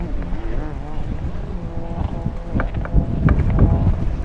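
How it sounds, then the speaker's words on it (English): Gusty wind buffets an outdoor microphone at an aquabike race in Portugal, producing a loud, continuous low rumble with rough, irregular bursts throughout. "you can hear that wind, I'm sure, even in the microphone as it is gusting pretty heftily"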